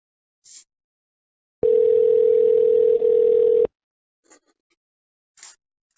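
Telephone dial tone on a recorded phone call, one steady two-second tone with a brief gap, bracketed by a few faint clicks and short electronic blips on the line.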